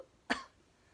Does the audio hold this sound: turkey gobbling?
no